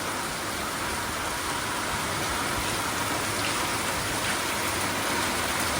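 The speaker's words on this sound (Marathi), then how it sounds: "आणि सध्या पाऊस कसं पडता माहिती आहे थोडं पडता परत नसता" Steady rain falls over a village in Kudal taluka, a dense, even hiss of drops that continues unbroken throughout with no voices.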